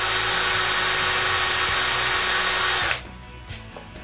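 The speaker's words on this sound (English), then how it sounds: "On the top, I drill the holes with a hand drill, taking care not to go through the board." A hand-held power drill whines steadily into a wooden board for about three seconds, then stops abruptly, followed by a few soft knocks.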